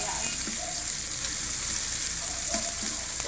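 An omelette with garlic fries in a hot pan, giving a steady, close, continuous sizzle from start to finish.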